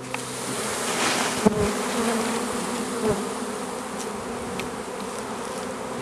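A honey bee swarm drones in a steady, dense buzz throughout a swarm capture, with individual bees flying close past and a couple of brief knocks and thumps nearby.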